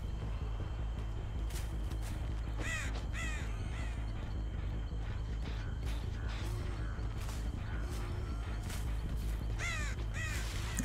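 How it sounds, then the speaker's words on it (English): Repeated harsh caws from crows in the game Dead by Daylight, several short bursts scattered over a constant low rumbling ambience, with faint footsteps and mechanical clanks. "I hear a crow."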